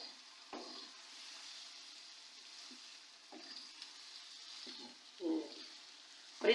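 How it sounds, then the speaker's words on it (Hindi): Beef keema and potato pieces fry in a pan, giving a soft, steady sizzle with occasional stirring scrapes and clinks. The sound is faint and close, with no speech. "आलू डाल के मैं और 6-7 मिनट के लिए अच्छी तरह इसकी भुनाई करूंगी"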